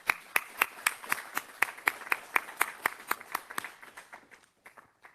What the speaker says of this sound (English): I'm going to ask everyone to give you a round of applause